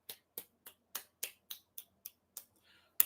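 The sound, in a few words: speaker clapping to applaud the audience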